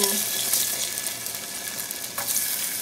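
Hot oil sizzles and crackles steadily in a pan, a close, continuous hiss with occasional small pops.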